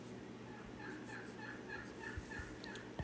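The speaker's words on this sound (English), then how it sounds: "My turkeys are talking today." Pet turkeys gobbling in the background, a faint, repeated burbling call rising and falling several times under a low room hum.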